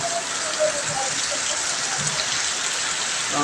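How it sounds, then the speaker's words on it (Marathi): Heavy rain pours down steadily in a dense, constant hiss of drops on surfaces, with no voices. "खूप जोराचा पाऊस आहे"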